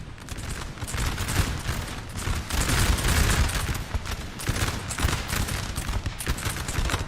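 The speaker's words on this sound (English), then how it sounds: "Oh, there's the howitzers." Howitzer artillery and massed musket fire in a Napoleon Total War 4v4 battle, a dense continuous rumble of overlapping booms and crackling volleys, loud and steady throughout.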